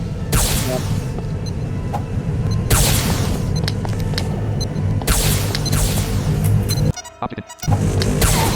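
Time bombs in a video game go off as loud, dense booming bursts, several blasts over a continuous roaring noise, with a brief quiet gap near the end.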